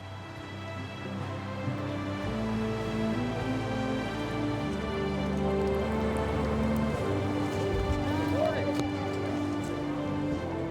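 Steady rain falls overnight during an Old West Days celebration in Wyoming, a continuous even hiss with a low background rumble throughout and no distinct voices.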